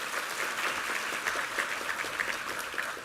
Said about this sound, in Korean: 함께 힘찬 격려의 박수 드리겠습니다.